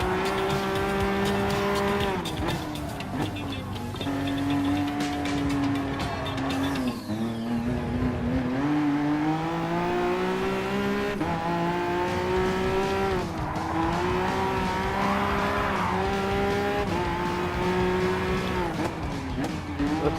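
A Peugeot GT Gr.3 race car in Gran Turismo Sport screams under steady load, its engine pitch climbing and dropping through gear shifts with occasional tire squeal.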